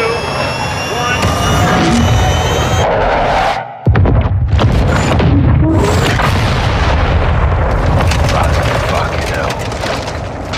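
A missile strike explodes in the video game Call of Duty Modern Warfare II: a loud, dense roar of jet-like rumble cuts out briefly, then a heavy boom erupts and a long rumbling blast sustains to the end.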